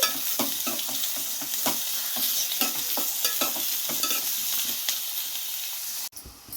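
Onions with curry leaves sauté in a pan, giving a loud, continuous sizzle under repeated stirring scrapes in an even rhythm, close up, briefly dropping out near the end.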